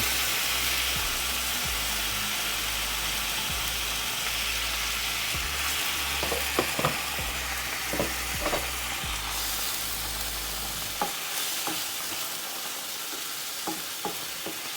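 Broth ladled into a hot frying pan of sautéed vegetables for solyanka sizzles with a steady hiss, then fades toward a quieter crackle with occasional clinks of a utensil.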